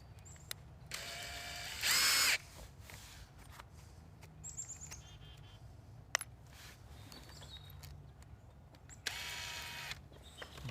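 A power drill whirs in two short bursts, pulling screws from old railroad ties to salvage the tie plates, with a brief high whine early and a second later burst amid quiet outdoor ambience and faint clicks.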